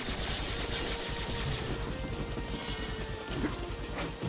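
A hexaphile enemy blown apart in a video game, a dense, loud wall of crashing and rapid gunfire-like bursts running continuously, with a sharper impact near the end.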